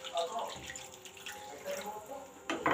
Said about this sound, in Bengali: এবার এতে আমি অ্যাড করব জল